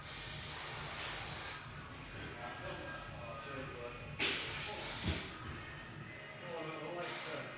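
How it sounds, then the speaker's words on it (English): Hairspray hisses from an aerosol can onto the crown of a client's hair during a barber's fade haircut, several short close bursts separated by quiet gaps. "Fire a little bit of hairspray into the crown."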